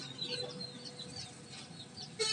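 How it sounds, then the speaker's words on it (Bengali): Campbell ducklings fresh from a government hatchery, chirping in a soft, continuous cluster of high peeps at moderate distance, ending with a brief burst of louder rustling. "আপনারা দেখতে পাচ্ছেন ক্যাম্বেল হাঁসের বাচ্চা।"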